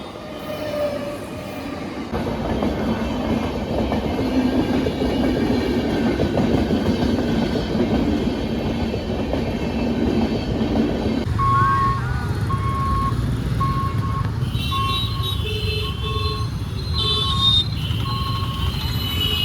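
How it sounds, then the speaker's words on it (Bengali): A train rumbles past a closed railway level crossing in a steady, loud, close roar with clattering wheels, and a bell rings repeatedly near the end. "কখন যে গেট খুলবে জানি না, ট্রেন আসছে"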